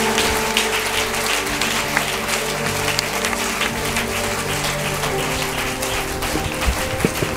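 Church congregation applauding and cheering for Jesus, dense sustained clapping from many hands with scattered shouts, loud and close, continuing throughout.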